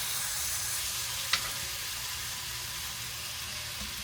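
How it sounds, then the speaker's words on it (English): Butter melting in an already greasy pan, giving a steady, close, even sizzle that runs throughout with a brief sharper tick partway through and no talk. "we're going to put the butter. We're going to let it get melted around here."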